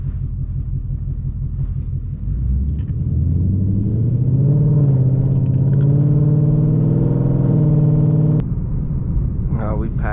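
Ford Mustang GT driving, a close engine rumble that rises as it accelerates partway through, holds a steady droning tone, then drops back, with voices speaking inside the car.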